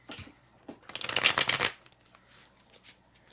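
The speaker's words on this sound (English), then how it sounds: "Let's do some ASMR shuffling." A deck of Everyday Witch tarot cards being shuffled up close, a soft riffle building into a dense, crisp flutter of card edges over about a second, then a few lighter taps and slides as the deck settles, no voices.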